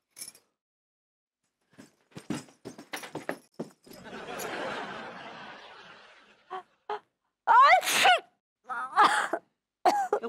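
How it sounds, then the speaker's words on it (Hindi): Several sharp sneezes break out between bursts of voices and a stretch of breathy noise, loud and close, in a comedy scene with people talking. "वहां छींको ना यार"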